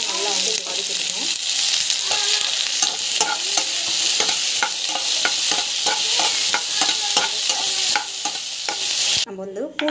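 Ingredients are sautéed in hot oil in a pan, giving a loud, steady sizzle with repeated scraping stirs from a spatula, continuing until an abrupt drop near the end.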